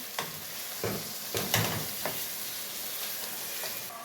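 Half a kilogram of chicken fries with hot onions in a pan, a steady close sizzle broken by several sharp clatters and scrapes as the pieces are stirred and added.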